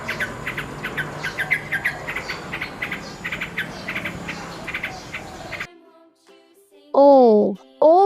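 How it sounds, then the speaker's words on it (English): A nightingale sings rapid, repeated chirping trills for several seconds, fairly near and bright, before falling silent; a voice then speaks briefly. "N is for"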